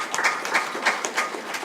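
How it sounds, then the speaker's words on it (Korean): Audience applause at an anniversary celebration event, a brief spell of clapping with distinct hand claps standing out in an even rhythm, moderately loud and close. "다시 한번 박수 부탁드리겠습니다"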